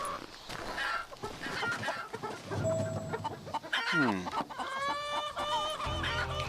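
Chickens cluck and squawk in the Western shooter game Call of Juarez Gunslinger, several birds close by with a rooster-like cry, over busy game ambience and music.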